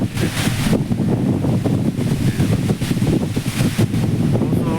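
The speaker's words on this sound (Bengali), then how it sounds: "প্রচন্ড বাতাস চলতেছে এখানে মালদ্বীপ" Strong gale blowing by the sea in the Maldives, hard enough to break coconut trees, roars as loud, continuous buffeting wind across the microphone, with surf rumbling beneath and no break in the gusts.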